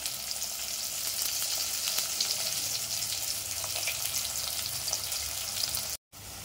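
Finely chopped shallots and onions fry in a hot pan with a steady, bright sizzle, fairly quiet and close, briefly cutting out near the end.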